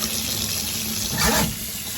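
A sink faucet runs water over an etched glass mug, a steady close rush that swells briefly louder as the stream hits the glass, with no talking.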